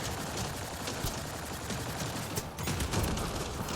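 Dense, continuous video game gunfire from a shooter, an engineer character firing nonstop at a heavily armoured enemy, rapid overlapping shots forming a loud, unbroken barrage with a slight surge near the end.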